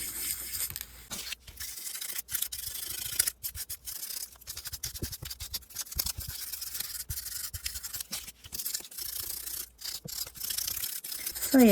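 Paper from a book page being crumpled and scrunched at the edge for a craft project, heard as continuous close, loud crinkling and scratchy rustling with brief pauses.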